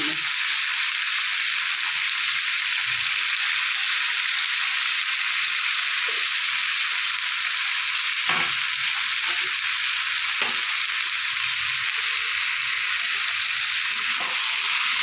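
Ground spices with coriander powder and Kashmiri chili fry in a pan for a kundru (ivy gourd) dish, a loud continuous sizzle with occasional spoon taps and scrapes as they are stirred together, no voices.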